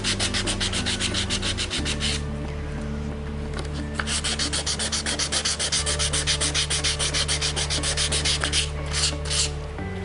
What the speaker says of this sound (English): I'm going to start with a 500 grit emery paper. This is the maximum grit that you want to use to polish your piece